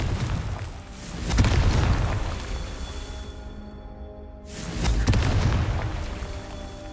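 Two heavy, booming Confringo spell explosions from Hogwarts Legacy roll out a few seconds apart, each a loud low blast with a long decaying rumble, with a brief quiet gap between them.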